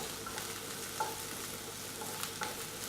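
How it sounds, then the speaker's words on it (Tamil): Ginger and garlic frying in a pan for chapati noodles, a steady soft sizzle with faint stirring scrapes across the whole stretch and no voices. "அதுலேயே இஞ்சி பூண்டும் போட்டுடுறேன்."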